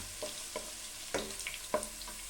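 Ginger and garlic frying in a pan for dry chilli chicken, a quiet, soft sizzle with a few light stirring scrapes at irregular intervals, no voices.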